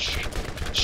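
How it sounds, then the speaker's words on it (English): Video game gunfire in Borderlands comes as rapid, overlapping shots in a dense burst, loud and close. Bright crackling bursts sit at the start and end. "we're gonna get into some shooting"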